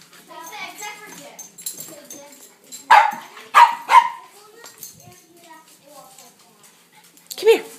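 Puppies give a few short, sharp barks and yips in a loud cluster mid-clip and again at the end, mixed with people talking and cooing indoors.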